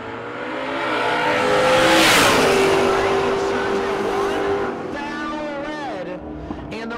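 A drag race launch between a Camaro and a 1970 Nova at a no-box drag racing event, with loud engines roaring and building to a peak, then fading as the cars pull away, under commentator talk.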